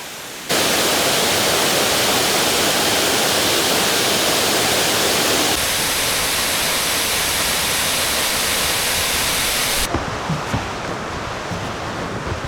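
Tier 4 of Huai Mae Khamin waterfall in Kanchanaburi, a loud, dense roar of falling water that starts abruptly and holds steady, with the rush shifting slightly partway through, no voices.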